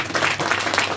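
A church congregation at a Christmas gathering in Tikhedewa, Nepal claps for two pastors, a dense, steady round of applause with bursts of louder clapping, with no voices over it.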